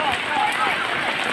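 Heavy rain pours down during the aftermath of Typhoon Paeng, a dense, steady hiss of drops on surfaces close by, with a voice faintly present under the downpour.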